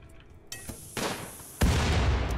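Weapon fire in the RimWorld colony game, a few sharp reports: a faint pop, then a louder blast, then a heavy, sustained boom that rings on at the end.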